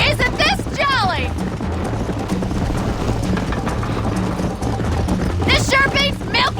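Rapid rhythmic hoofbeats of a galloping horse in the video game Red Dead Redemption run steadily throughout, with a voice speaking briefly over them near the start and again near the end.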